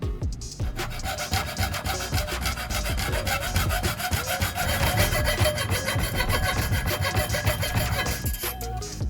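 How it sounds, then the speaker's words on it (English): A small fine-toothed hand saw cuts a groove into one end of a wooden stick, its rapid back-and-forth strokes close and loud, scratchy and steady throughout with no talking. "To create the groove, I'll use a small hand saw or a fine-toothed saw, carefully cutting along the marked line on the wooden stick."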